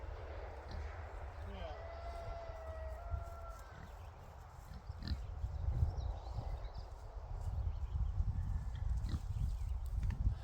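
Pigs are called and moved at a chicken run build, with a voice calling them and shuffling, thudding movement and animal noises over a farm background.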